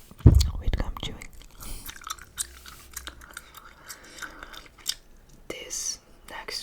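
Close-up open-mouth chewing of gum, with wet smacking and clicking mouth sounds spread unevenly through the clip and a louder burst near the start, set against a soft whispering voice.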